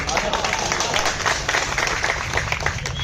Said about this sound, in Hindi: कमजोर तालियों के लिए शुक्रगुजार।